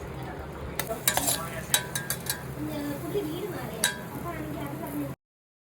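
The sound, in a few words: roasting banana in ghee in a kettle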